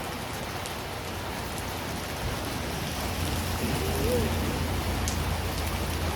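Steady rain streams down a window pane, a dense, even patter with a low rushing wash underneath that swells slightly toward the end, with no voices.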